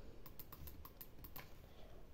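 Keyboard typing for a Roblox hide-and-seek game chat, a string of roughly eight sharp key clicks over a steady background hum, with no voices.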